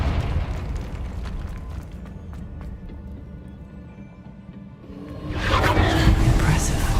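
A Confringo fire spell explodes in the Hogwarts Legacy video game: a loud, broad rumbling burst swells near the end over continuous game noise, with a voice heard earlier in the clip.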